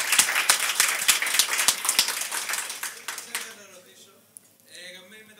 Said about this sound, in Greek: Ένα χειροκρότημα για τον Χρήστο